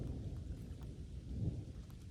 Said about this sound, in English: Thunder's been popping around. We've been hearing a lot of thunder.